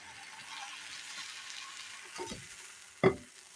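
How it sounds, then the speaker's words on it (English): Curry ingredients for a coconut milk chicken curry sizzle steadily in a big pan, with a few scraping stirs and a sharp clank near the end; no one speaks. "We are going to put everything in the big pan now."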